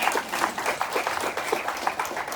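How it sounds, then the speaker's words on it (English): Audience clapping for the staff of a medical center during a television drama season presentation, an even, continuous patter of many hands with slight swells, no speech. "They deserve a round of applause."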